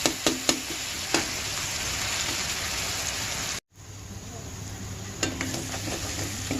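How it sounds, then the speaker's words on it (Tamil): Onions and tomatoes sautéing in a pan for mutton gravy, a steady close sizzle with a few sharp stirring scrapes near the start and end, broken by a brief moment of silence midway. "நல்லா கொலையிற அளவுக்கு நல்லா வதக்கி விடுங்க"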